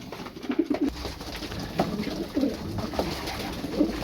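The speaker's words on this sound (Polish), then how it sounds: "Także gołąbki sobie pojedzą." Pigeons cooing in a loft, several soft repeated coos at intervals over steady background noise, with no speech.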